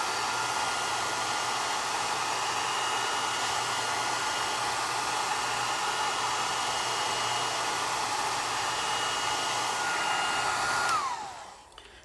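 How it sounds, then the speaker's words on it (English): A hair dryer blows steadily at full power for several seconds, a loud airy whir with a high whine, then it switches off and winds down. "the only way to dry it is with a hairdryer"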